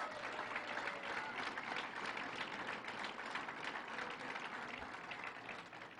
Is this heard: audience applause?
yes